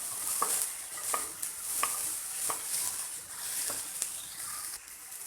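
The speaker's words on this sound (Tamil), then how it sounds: "தக்காளியும் நல்லா வதங்குற அளவுக்கு கொஞ்ச நேரம் இதோட சேர்த்து வதக்க போகிறோம்." Tomatoes sauté in a pan for a chicken semi-gravy, giving a steady soft sizzle. A spoon scrapes through them every second or so in gentle, regular stirs.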